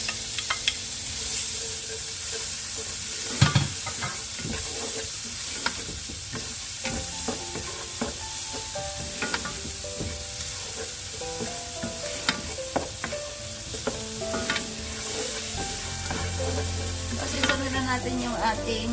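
Chopped garlic and fresh onion sizzle in a pan for creamy spinach noodles, a continuous close hiss broken by scattered clicks and scrapes of stirring throughout.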